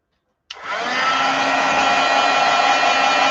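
A heat tool switches on abruptly and blows a loud, steady whooshing hum while heat-setting embossing powder on a papercraft flower, close and continuous with no voices.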